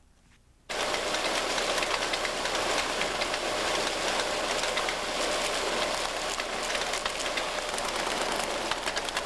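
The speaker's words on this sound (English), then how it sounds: "The high-speed reader goes like an express train." A high-speed mail sorting machine starts abruptly after a brief quiet moment, a steady, dense mechanical whir running loud and unbroken, like fast machinery rattling continuously.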